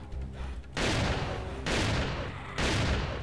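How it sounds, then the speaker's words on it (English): Heavy gunfire from the video game Doom TNT Evilution, three loud sustained broadband bursts separated by brief lulls, close and dominant. "I shot you around the corner"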